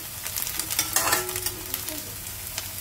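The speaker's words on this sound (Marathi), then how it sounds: "तेलामध्ये कांदा तर आपण परतून भाजून घ्यायचा आहे." Onion fries in hot oil while being stirred, giving a continuous close sizzle with scraping stir strokes and a brief louder burst near the middle.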